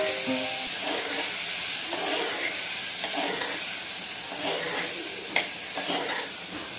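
Green toor beans stirred in a hot pan for kachori filling, a continuous sizzling hiss with soft scraping of the spoon, close and steady with no talk.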